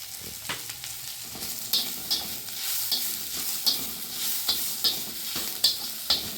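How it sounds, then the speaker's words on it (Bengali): Onion fries in a pan with a little oil, turmeric and a small amount of salt for a paratha filling, a steady close sizzle punctuated by regular scraping stir strokes roughly every half second, without speech. "পেঁয়াজটা হালকা ভাজা হয়েছে"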